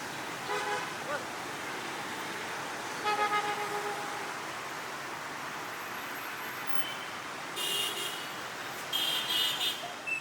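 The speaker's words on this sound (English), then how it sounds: "All day long, you can hear the motorbikes coming down the little alleyway" Steady street traffic hum in Hanoi, Vietnam with passing motorbikes, a few short horn toots breaking through at intervals, moderately distant.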